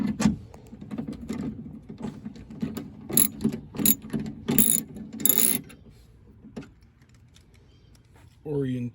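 Ratchet wrench clicking on a bolt in a 2004 Chevy Impala door during window regulator work, rapid close ratcheting bursts for several seconds, then quieter, with a brief voice at the end.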